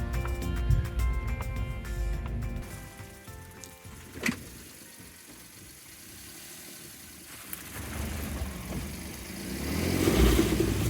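A customized kei truck's engine and exhaust rumble steadily at close range, fading to a low drone midway and then swelling again as revs rise toward the end.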